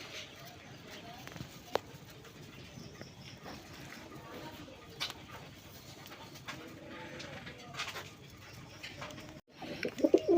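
A pair of large Iceberg Damascene pigeons coo softly in a pen while someone talks over them, with faint shuffling and other birds in the background.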